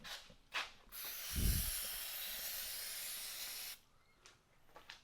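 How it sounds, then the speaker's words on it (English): Brake cleaner spray can hissing in one steady, loud blast lasting about three seconds onto a leaking part of a budget drift car, with brief clunks before and after. "Let's give it a quick hit with the brake cleaner."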